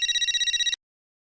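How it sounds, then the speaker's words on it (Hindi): A telephone rings in steady repeated bursts for under a second, then cuts off abruptly into silence as the call is picked up. "किसका फोन है?"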